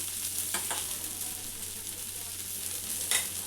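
Oil sizzling under a rice flour dosa frying in a pan, a soft steady crackle with a couple of faint scraping touches, fairly quiet throughout.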